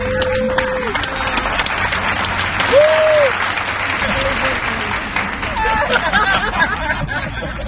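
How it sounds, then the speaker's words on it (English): A small group gives a round of applause, lively clapping mixed with chatter, a whoop and light laughter, close and continuous. "Can you have a round of applause for them?"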